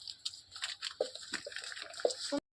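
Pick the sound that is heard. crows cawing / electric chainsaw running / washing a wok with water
washing a wok with water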